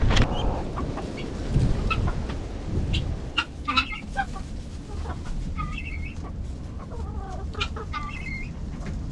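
Several backyard chickens cluck and chatter inside a winter coop with deep litter bedding, close and fairly loud, with scattered short calls over a steady low rumble of background noise.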